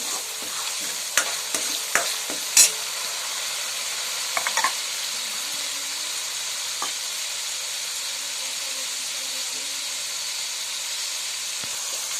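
Chicken masala fries in a pan, a steady broad sizzle running throughout, with a few scraping stirs of a spoon near the start and now and then later.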